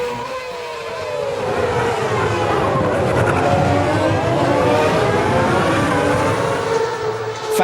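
Formula 1 race cars from the 2007 season racing past, a loud sustained engine whine with shifting pitch sweeps as several cars scream by in close succession.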